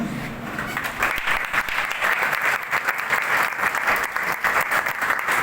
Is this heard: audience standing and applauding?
yes